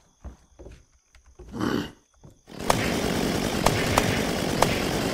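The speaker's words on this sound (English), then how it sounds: "And then we'll get our chainsaw out." Loud, steady chainsaw roar in the survival video game Unturned, starting abruptly after a few quiet soft noises and running continuously with occasional sharp clicks.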